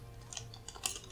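Quick, quiet keystrokes on a computer keyboard, a short irregular run of soft clicks with no talking.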